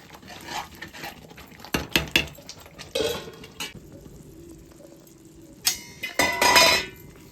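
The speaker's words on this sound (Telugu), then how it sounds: "మధ్యలో ఇలాగ మనం కలుపుకోవాలి" Gongura dried fish curry stirred in a pot with a metal spoon, scattered scrapes and clinks against the pot over a low simmering background, near and fairly quiet.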